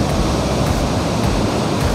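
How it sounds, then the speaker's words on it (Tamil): Water falls at Hogenakkal Falls in a loud, steady rush of white noise that fills the whole stretch evenly, heard close and alone with no talking. "அருவியிலிருந்து தண்ணி விழுற சவுண்ட் எவ்வளோ அழகாக கேட்குது பாருங்கள்"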